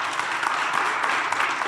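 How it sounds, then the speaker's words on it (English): Audience applause for Gary Davis at a youth crime prevention event: a steady, dense burst of clapping from a crowd that fills the whole short moment without letting up. "So give it up for Gary Davis"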